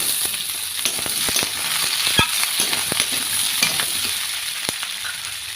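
Beet, pumpkin, potato and beans fry in a pan, a steady loud sizzle broken by sharp crackles and spatters, with no talk over it.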